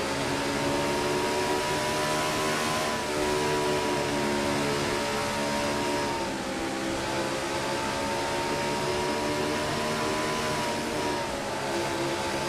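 An onboard stock car engine roars in a racing video game during a Food City 500 league race, a loud continuous drone with pitch shifting up and down as the car accelerates and lifts.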